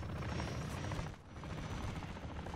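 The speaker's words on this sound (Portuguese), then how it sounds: "É, não atira no helicóptero não." A helicopter in the video game Warzone 2.0 DMZ makes a loud, continuous rotor roar that fills the scene, dips briefly midway, then resumes at a steady, close, throbbing level.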